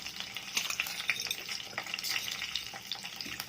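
Urad dal sizzles in hot oil for beerakaya pachadi, a soft, steady crackling fry heard quietly and close up, with no talking.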